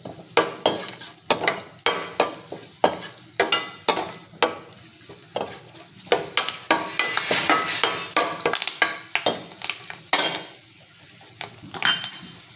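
Mustard seeds, fenugreek, dried red chilies and asafoetida crackle in tempering oil over low heat. Sharp, irregular pops burst in quick clusters, with gentle sizzling and occasional stirring clinks in between, close up and with no voices.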